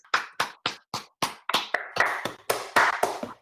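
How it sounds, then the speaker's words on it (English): A few people clap for a presenter at a virtual CASS Talks session, about a dozen distinct, evenly spaced claps that grow slightly denser and overlap toward the end, close and moderately loud with no talking. "Can you hear that? The applause."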